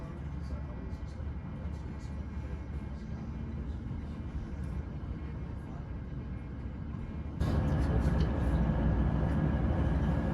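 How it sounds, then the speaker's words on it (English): A train on the Esk Valley Line rumbles steadily near Battersby station, a low continuous rolling drone that grows noticeably louder and brighter toward the end as it draws closer. "In order to get onto this section of track, the train has to reverse at Battersby station."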